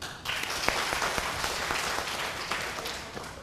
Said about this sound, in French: je pense qu'il faut l'applaudir